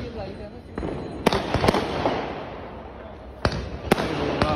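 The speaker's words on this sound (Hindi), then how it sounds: "पटाखे भी फट रहे हैं वहाँ पे" Firecrackers bursting outdoors during Diwali celebrations at a Jammu shopping plaza, several sharp loud bangs, some in quick pairs, over a busy background of crowd noise and nearby talk.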